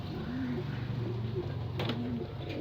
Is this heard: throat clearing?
no